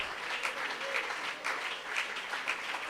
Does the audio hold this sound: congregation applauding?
yes